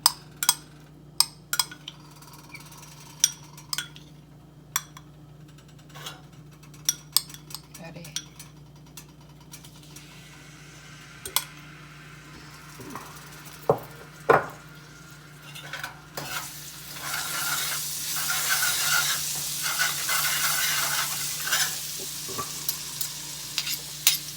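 Crushed garlic goes into a pan while a broccoli dish is cooked, with sharp, scattered utensil clicks and taps against the metal at first. A broad frying sizzle then swells in the latter part and holds steady.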